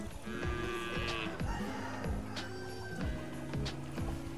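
Several moos and lowing calls from a herd of water buffalo, overlapping at moderate distance amid steady outdoor background noise.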